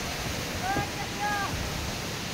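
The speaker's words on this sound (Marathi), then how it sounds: "आपल्या पाठीमागं वरतून जो धबधबा वाहत आहे" A waterfall near Gupt Bhimashankar pours from above in a steady, faint hiss of falling water, continuous throughout, with two brief tonal whistles or calls rising over it in the middle.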